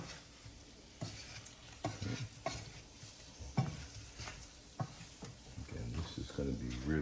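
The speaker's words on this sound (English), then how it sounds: "you're just going to stir it up a little bit" A spoon stirs vegetarian Italian-style sausage simmering in tomato sauce in a pan, making repeated scraping strokes over a gentle sizzle while a person talks.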